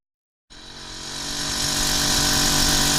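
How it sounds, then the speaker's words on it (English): A drill boring holes through concrete slabs while raising sunken slabs at a golf villa site, starting abruptly after a moment of silence and building into a loud, steady, high-pitched grinding whine that runs on without a break. "we have to drill holes through the slabs that will enable us to pump our material through the concrete"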